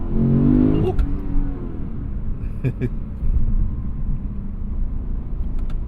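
A 2020 Lexus RC F Track Edition accelerates and shifts gears: its engine revs up briefly, drops at the gear change, then settles into a steady, heavy rumble heard from inside the car.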